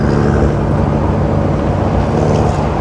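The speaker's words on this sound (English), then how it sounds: "Wonder if you'll be able to hear me over that giant turbo diesel with its loud ass exhaust" A Dodge Cummins turbo diesel truck with a loud exhaust rumbles close by, giving a heavy, continuous low-pitched drone with some wind buffeting.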